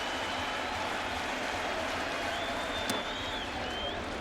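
A baseball stadium crowd murmurs and cheers at a 2011 Orioles game against the Yankees. The steady wash of crowd noise stays fairly faint and distant, with one sharp click partway through.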